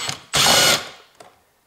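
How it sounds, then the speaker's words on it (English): A short, close whir comes from an electric driver with a socket turning a bolt on a BMW side mirror. The single burst lasts about half a second and ends with a faint click. "now I use my electric driver"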